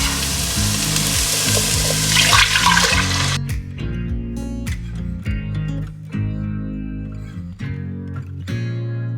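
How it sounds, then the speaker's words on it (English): Water poured into a cooking pot on a stove, a loud rushing pour for a few seconds, then clinks and stirring clatter over a steady low kitchen hum. "I'm gonna have to add some water, which is fine."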